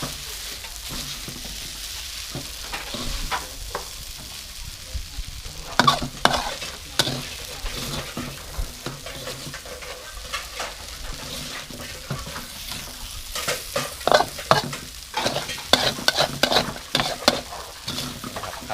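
Instant noodles with dried chillies stir-fried in a hot pan: a steady sizzle with repeated scraping and clanking of a utensil against the metal, close up, with no talking.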